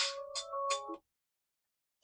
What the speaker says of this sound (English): Sorry, that's my phone going off.